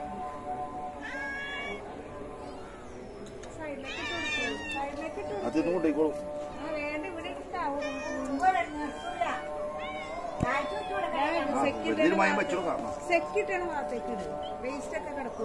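Several cats meow repeatedly, with high, wavering calls overlapping one another while people talk nearby throughout.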